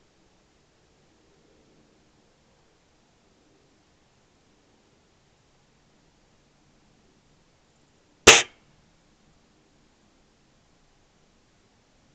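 A single sharp shot from a Gamo Whisper .177 air rifle fired at sparrows outdoors, one brief crisp crack that stands alone against a faint quiet background.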